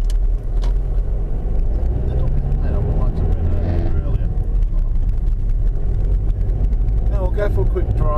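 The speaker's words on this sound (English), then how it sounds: "I'm driving from my home, first of all, to the surf beach." Car driving around Loch Sport, Australia, on a cold morning: a steady low engine and road rumble inside the cabin, continuous and close throughout.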